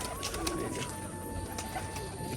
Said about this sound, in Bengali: আর পায়রাগুলো কিন্তু এখানে সবই ছাড়া আছে। আর এই দেখুন একটা সাদা নর পায়রা